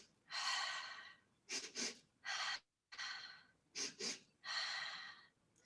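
Breathing exercise cycles: loud, close, forceful airy inhales and exhales in a rhythmic pattern, long breaths alternating with quick double sniffs, one brief silent gap midway.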